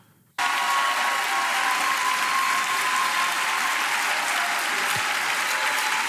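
Applause starts abruptly after a brief quiet and continues evenly as a dense wash of clapping from a crowd, steady and fairly loud.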